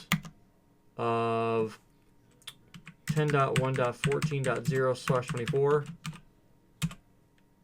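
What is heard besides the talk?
typing on a computer keyboard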